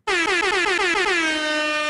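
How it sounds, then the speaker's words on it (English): Loud air horn blasts sounding alone, a rapid string of short honks that merges into one sustained, steady blare. "I got to give the air horns"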